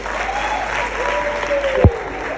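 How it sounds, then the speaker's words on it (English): Applause from an audience at a live entrepreneurship event, a steady broadband wash of clapping throughout with a brief sharp thump near the end, moderately loud and without clear speech. "Please give her another round of applause."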